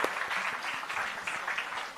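Audience applause after a panel discussion session, a steady wash of many hands clapping, fairly faint and continuous throughout with no voices standing out.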